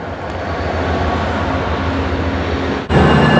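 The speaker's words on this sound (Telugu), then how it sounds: "రైల్వే స్టేషన్లో బాగా నాయిస్ ఎక్కువగా ఉంది." Loud, continuous rumbling din of a busy Amtrak railway station in the US with train noise, ending in an abrupt shift to a steady mechanical hum.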